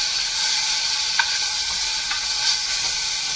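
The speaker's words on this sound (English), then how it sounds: "So I'm going to show you guys the sear now." Pork tenderloin sears in oil, a bright continuous hiss of sizzling fat up close, with faint occasional pops and no talking.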